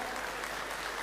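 A short burst of applause from a concert crowd at a Kham Ku anniversary show in Panglong, a dense, steady patter of many hands heard from a distance at low level.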